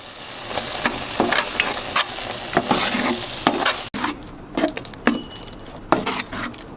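Apple halwa with fried cashew pieces is stirred in a pan, a spoon scraping and clinking in repeated strokes with a soft sizzle underneath, close and moderately loud.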